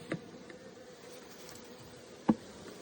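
A honeybee afterswarm in an apiary, being settled into a Mini Plus hive, gives a faint, steady buzz at a distance, broken by two sharp knocks.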